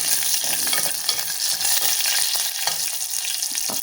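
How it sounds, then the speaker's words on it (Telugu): Tempering of urad dal, chana dal, mustard seeds and cumin frying in oil crackles and sizzles continuously and close, with scraping stirring throughout and no talk. "ఇప్పుడు పోపు వేగిపోయింది కదా"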